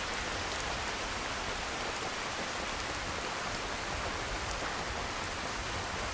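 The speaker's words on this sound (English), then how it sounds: "Oh, that's cold rain, too." Cold rain falling in the video game Skyrim, a dense, even hiss of raindrops on surfaces that holds steady throughout with no voices.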